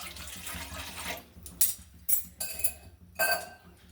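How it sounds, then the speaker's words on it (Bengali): Water poured into a cooking pot for a dry fruit custard with sago and sugar: a steady rushing pour at first, then quieter with a few sharp clinks of metal cookware close by. "দেখুন, আমি জল ঢেলে দিচ্ছি।"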